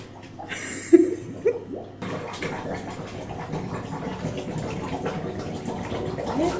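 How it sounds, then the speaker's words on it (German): Water gurgles and rushes steadily as it backs up out of an overwhelmed shower drain, a continuous splashing, bubbling flow after a few sharp knocks at the start. "Das kommt aus der Dusche wieder raus, weil es der Abfluss gerade nicht mehr schafft"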